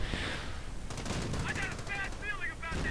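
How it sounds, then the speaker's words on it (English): In a video game match, a machine gun fires in rapid, dense bursts that run continuously, heard at moderate volume under faint voices. "He might probably not come back from this until the machine gun isn't firing, but there it is."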